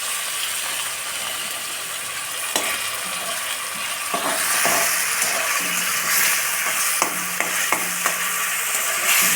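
Ground onion paste hits hot oil in a pan for a potato and egg curry and sizzles loudly and steadily up close. The frying swells as the paste goes in, and light scraping stirs and clinks break through it, with no speech.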